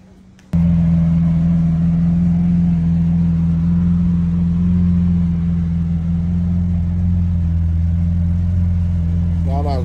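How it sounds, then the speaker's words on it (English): A Lamborghini Aventador engine starts abruptly and holds a loud, steady deep idle rumble close by, continuing evenly to the end with brief voices at the finish. "Getting there. Lamborghini."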